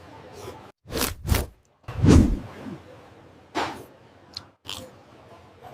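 Crunchy grilled pork from a Vietnamese grilled pork noodle dish being bitten and chewed up close, several loud crisp crunches separated by short silences, followed by softer chewing.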